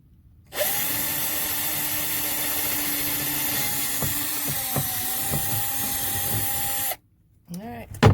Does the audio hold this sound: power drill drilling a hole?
yes